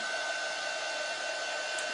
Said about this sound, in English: my dryer won't do full speed